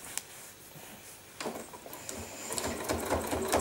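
Sewing machine stitching down bag handles runs in a steady mechanical whir that starts up partway through and continues near and fairly loud, with light handling clatter at the start and no talking.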